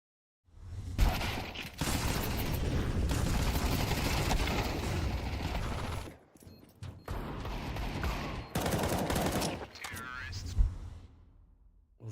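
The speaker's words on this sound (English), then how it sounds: "All the flashbangs flying over" Flashbang grenades and gunfire in a competitive tactical shooter video game. Loud crackling bursts and blasts run almost nonstop for several seconds, break off briefly, then return in sharp, rapid volleys.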